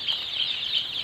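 Young free-range local chickens on a small farm clucking and peeping in a continuous, fairly close chorus, with no talk.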